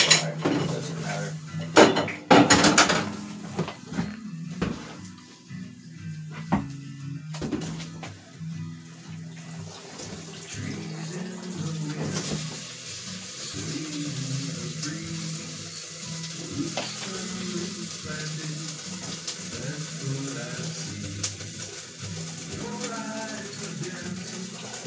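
Running tap water pours over acid-dyed wool yarn during rinsing, a steady hissing splash that continues through most of the clip, with clattering handling noises near the start and a voice speaking over it.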